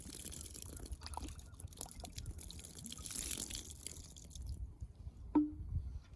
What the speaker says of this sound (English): I just have to dump out this water.